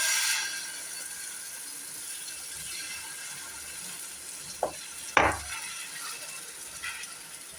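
Paniyaram batter fries in ghee in a paniyaram pan with a steady close hiss and sizzle, broken by two sharp metallic clinks near the middle.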